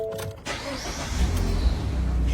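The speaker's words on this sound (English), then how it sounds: "if I go ahead and turn on my car" A car engine turns over and catches, settling into a steady low idle after a brief cranking burst; the sound is close and continuous with no talking.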